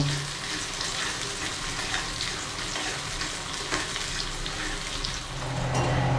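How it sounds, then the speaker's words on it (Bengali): Onions sizzle and crackle steadily in hot oil while frying until browned for biryani, with occasional stirring scrapes throughout; no voices. "এর মধ্যে পেঁয়াজগুলো দিয়ে দিলাম"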